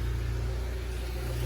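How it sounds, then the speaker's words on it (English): A 1995 Honda Civic engine idles steadily while warming up with fresh oil, a close, even low hum with a faint regular pulse and no voices. "Letting the car warm up with the new oil right now"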